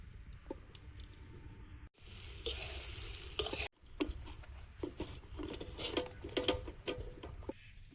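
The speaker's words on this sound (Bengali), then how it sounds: "তার আগে বেগুনটা ভেজে নেব" Round eggplant slices coated with salt and turmeric fry in a pan, with a close, crackling sizzle, spatter and clicking utensil sounds, broken by two brief silent cuts.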